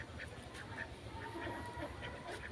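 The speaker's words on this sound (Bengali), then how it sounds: "আর হাঁসে ডিম পারছেনি আবার এখানে" Village ducks quacking in short scattered calls at moderate distance over steady outdoor background noise, with no speech.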